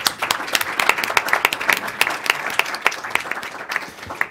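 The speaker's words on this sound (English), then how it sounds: "If we could have a round of applause." A modest audience at a policy forum on countering violent extremism in Pakistan gives a guest speaker a round of applause: distinct, fairly sparse hand claps that stay steady for a few seconds with no talk over them.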